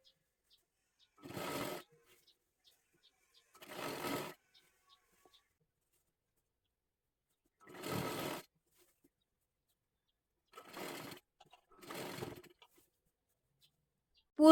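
A sewing machine stitches a girls' one-piece dress in five short bursts of rapid whirring, each lasting about a second, separated by quiet pauses.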